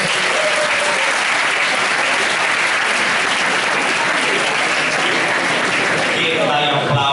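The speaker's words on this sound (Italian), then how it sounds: "E dai applausi, si vede subito che giochi in casa." Loud, sustained audience applause for a professor introduced at a public debate in Ancona, a thick continuous roar of many hands clapping that thins near the end as a voice begins speaking.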